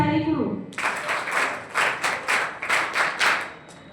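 Audience at a 12th board student award ceremony bursting into applause after a spoken announcement, with rhythmic clapping in repeated swells lasting several seconds.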